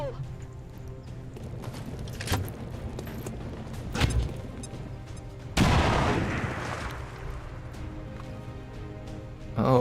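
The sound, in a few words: grenade explosion in XCOM 2 video game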